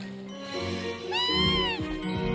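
A cat in Final Fantasy VII Rebirth gives one clear, drawn-out meow that rises and falls, loud and close over a layer of game music.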